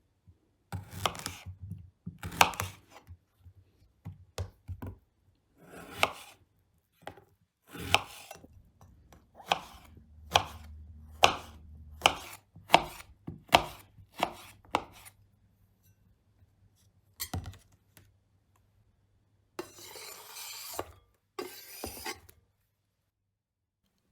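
A knife slices medium cucumbers into thin strips on a cutting board for a crab stick salad, giving crisp close chops in irregular runs with short pauses between them. No one speaks.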